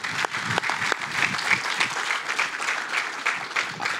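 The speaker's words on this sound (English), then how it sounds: "Let's give him a round of applause." An audience at an apartment ribbon-cutting ceremony claps steadily for several seconds, a dense, close round of applause with no voices over it.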